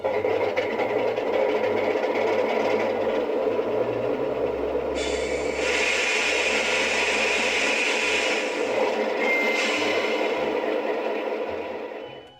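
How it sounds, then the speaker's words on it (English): Two Alco PA diesel locomotives on an O gauge model railroad rumble to life at an engine servicing facility, a continuous low droning engine sound with a brighter whine rising partway through, steady and fairly close. "a pair of Alco PAs grumbles to life"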